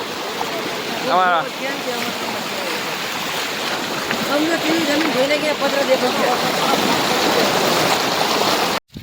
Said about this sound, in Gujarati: સૌરાષ્ટ્રમાં ખતરનાક પૂર આવી ગયું છે